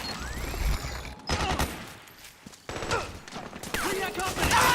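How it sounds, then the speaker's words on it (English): Bursts of automatic suppressing fire in Metal Gear Solid 4, arriving in several loud clusters with short gaps between them, amid battlefield noise and voices. "Suppressing fire!"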